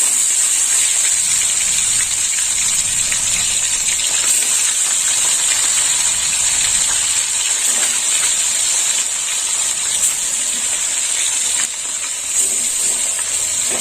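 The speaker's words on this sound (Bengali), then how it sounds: "গরম হয়ে গেছে তো আমি পার্শে মাছগুলো এবার দিয়ে দেবো দিয়ে দিলাম পার্শে মাছ" Parshe fish dropped into hot oil set up a loud, steady, close sizzle that hisses continuously with slight crackles throughout and no talking.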